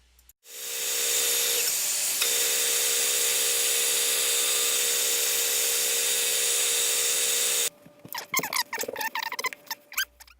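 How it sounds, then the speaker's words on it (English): A steady, high-pitched whirring hum runs for several seconds as a Robert Sorby sanding system spins inside a maple bowl on a lathe, then cuts off into scattered rattling and clatter. "Sanding the inside of the bowl with this Robert Sorby sanding system"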